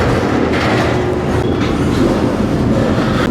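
Steady low rumble and rolling rattle of a freight train creeping through a rail yard, continuous and close, with faint metallic squeaks.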